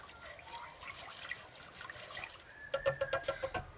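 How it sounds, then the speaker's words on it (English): Rice being rinsed in cold water in a small bowl, soft trickling and sloshing with irregular splashes, faint and close, ending in a quick run of rhythmic whisking taps. "I always like to put my rice in a small bowl and turn some cold water on it, and then I just whisk it until the water runs clear"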